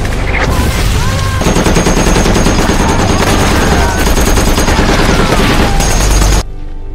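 Heavy machine-gun and rifle fire in a World War II battle against Japanese soldiers, a loud continuous barrage of rapid bursts with a few voices under it, stopping abruptly near the end.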